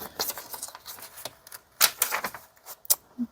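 Paper pages being cut down, heard as short crisp snips and rustles in uneven bursts, close and moderately loud, with brief quiet gaps between cuts.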